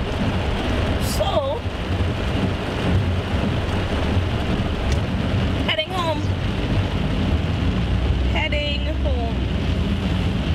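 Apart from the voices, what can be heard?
heavy rain and thunderstorm in St. Vincent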